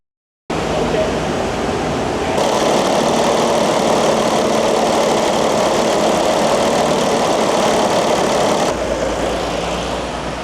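A Lexus GX460 SUV engine runs steadily up close, a constant broadband rumble with a low hum that holds loud and even for about ten seconds, its tone shifting slightly partway through.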